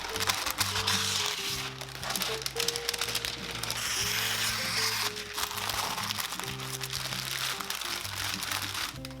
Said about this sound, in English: We're gonna wrap the chicken in parchment paper.